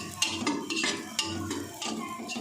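A spoon scraping and clinking in a pan while stirring semolina makhandi halwa as it turns crumbly, with a steady rhythm of close metallic scrapes and taps and no talking.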